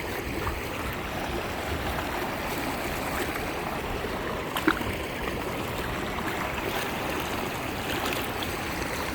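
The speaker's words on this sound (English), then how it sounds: "So we put it in there and wash it down first." Creek water rushing steadily through a modular gold sluice as gravel and black sand are washed down at Cajon Creek, a constant close wash with one brief knock midway and no voices.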